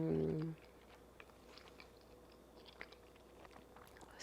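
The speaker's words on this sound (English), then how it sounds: "I'm gonna eat it with this fresh pita bread, homemade pita bread that I made just a little while ago" Soft, close chewing of greens and cheese with homemade pita bread, faint wet crunchy bites scattered irregularly through a quiet room after a brief louder sound at the very start.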